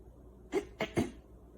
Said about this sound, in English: Did I hear you clear your throat?